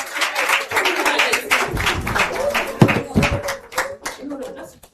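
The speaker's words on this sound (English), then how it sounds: "A round of applause as they do this" An audience at a Tony Elumelu Foundation International Women's Day event applauds as people return to their seats, brisk scattered clapping from a nearby crowd with voices talking through it.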